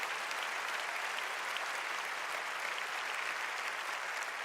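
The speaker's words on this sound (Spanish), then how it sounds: "Dale un fuerte aplauso a Jesús." Steady, dense applause from a large church congregation, loud and continuous throughout with no pauses or voices standing out.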